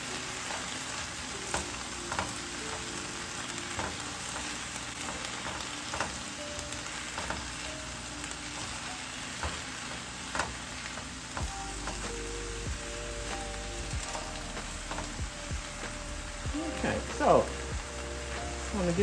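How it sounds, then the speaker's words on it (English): Shrimp, okra and sausage sizzling in a frying pan while being stirred, a constant close hiss broken by scraping and tapping of the utensil against the pan, with occasional quiet talk in the background. "now I'm going to kind of mix them all up together"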